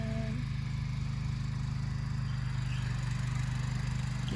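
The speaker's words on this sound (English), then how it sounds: "I hear an engine." A steady mid-pitched engine hum runs on without a break, fairly faint and even, like a motor idling some distance off near a rural homestead backyard, with no voices.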